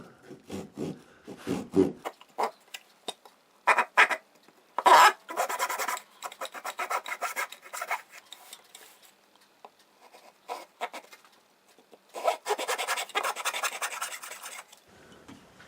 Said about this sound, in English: So I'm first going to just score the lines with a saw.